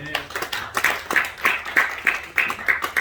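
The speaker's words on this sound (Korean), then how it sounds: "두 분께 박수 보내겠습니다" Applause from an audience at a church general assembly and revival conference, scattered claps arriving in uneven bursts for about three seconds, moderately loud with a faint voice underneath.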